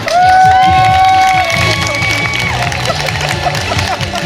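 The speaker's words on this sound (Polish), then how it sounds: "I uwaga, wielkie brawa!" Crowd cheering and clapping at the official opening of a new office building and media headquarters, loud and sustained throughout, with rhythmic thumping music underneath and voices mixed into the din.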